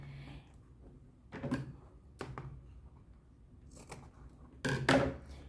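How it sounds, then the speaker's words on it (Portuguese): Scissors snipping bias binding tape for a sewn pencil case, heard as a few separate crisp cuts spaced out, close and fairly quiet, the last one louder. "a gente vai pegar o viés e vai cortar ele um pouquinho maior do que o tamanho da nossa costura"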